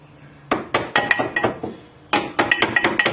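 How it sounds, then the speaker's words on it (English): Metal hammer blows tapping a lower control arm into position on a Galant/Legnum VR4 suspension, two quick bursts of sharp ringing taps, about five strikes each, close and loud. "you can use your hammer and give it a love tap"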